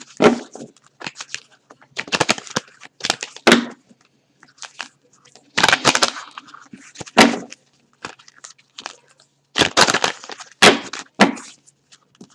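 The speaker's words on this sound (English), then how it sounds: "So I'm going to shuffle this and pull 3 cards here." A deck of butterfly oracle cards is shuffled by hand, giving irregular bursts of riffling and tapping, some sharp and some soft, with quiet gaps in between.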